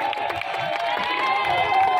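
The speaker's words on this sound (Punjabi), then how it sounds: "ਭਰਪੂਰ ਤਾੜੀਆਂ ਜੀ ਮੁਬਾਰਕਾਂ ਜੀ" A crowd at a buffalo milk-yield fair in Faisalabad, 2023, clapping and cheering after a prize announcement, a dense, steady wash of applause and voices.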